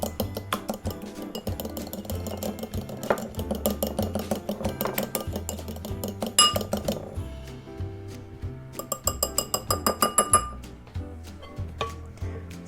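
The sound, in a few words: egg yolks being lightly beaten in a bowl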